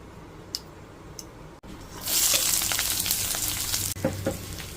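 Mustard seeds, curry leaves, green chilli and shallots hit hot oil for a kara kuzhi paniyaram tempering. After a brief hush, a loud, crackling sizzle bursts up and keeps spitting and popping close by.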